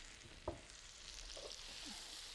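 Peaches hitting a hot pan while mini peach pastries are made, giving a brief close clatter followed by a steady soft sizzle and light stirring that runs to the end.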